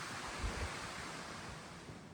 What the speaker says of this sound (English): that wind's really picked up